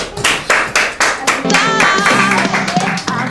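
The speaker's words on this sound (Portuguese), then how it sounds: "as palmas louvem ao nome do Senhor Jesus" Church congregation clapping in rhythm during an evangelical worship service, steady loud claps with music and singing rising beneath them.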